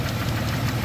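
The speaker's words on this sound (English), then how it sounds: "When you start up your Jeep for the day, you can actually hear the purge valve working," A 1997 Jeep Cherokee's EVAP purge valve working at engine start-up, a faint rapid ticking riding on the close, steady rumble of the idling engine.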